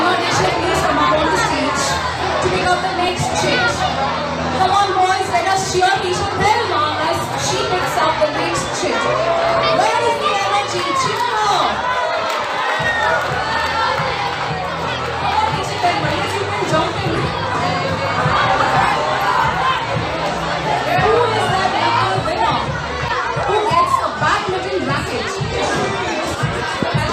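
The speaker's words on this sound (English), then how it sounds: "Come on, boys, let us cheer each other." Schoolboys cheer and chatter at a school festival prize event, a loud, continuous hubbub of many young voices with shouts and bursts of cheering, crowd noise filling the whole space.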